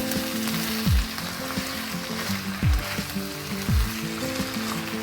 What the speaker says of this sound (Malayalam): അതിനുശേഷം ഇത് മിക്സ് ചെയ്തെടുക്കുക നന്നായിട്ട്.